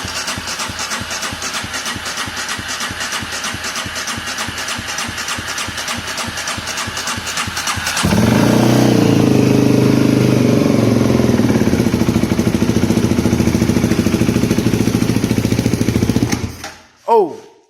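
A Polaris Predator 500 ATV engine cranks with a rhythmic chugging, catches at about the eight-second mark and roars loudly at a high, steady idle before shutting off abruptly.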